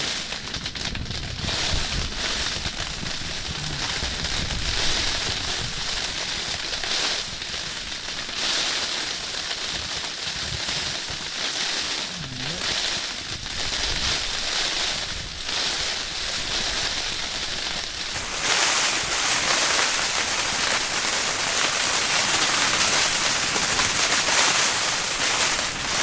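Strong wind gusts buffet the open surface of a frozen lake during ice fishing, a loud, continuous rushing roar with fluctuating bursts, growing harsher and brighter near the end.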